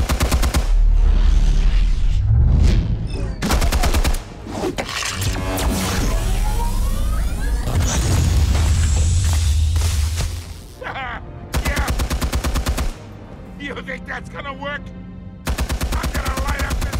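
Gunfire in Batman: The Telltale Series video game, with loud bursts of rapid automatic shots and single bangs that stop and start through the scene, alongside swelling game music, impacts and brief character voices.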